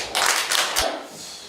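An audience at a Korean art book launch event claps to welcome a speaker, a short burst of scattered hand claps that fades within about a second.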